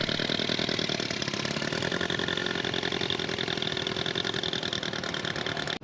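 A 1911 Scott two-stroke veteran motorcycle runs at a steady, rapid buzzing beat, loud and close throughout as it pulls away on a veteran vehicle rally, with no talking.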